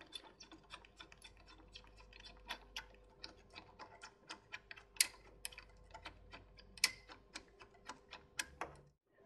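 A ratchet tightening the slave cylinder bolts on a Subaru pull-to-push clutch conversion, rapid quiet clicking in uneven bursts throughout, with a few sharper ticks, close and alone with no talking.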